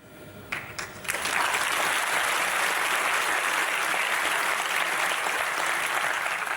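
Audience applause in a lecture hall, a few scattered claps at first swelling into steady, dense clapping that holds evenly throughout.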